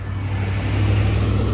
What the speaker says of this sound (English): And there's another car coming.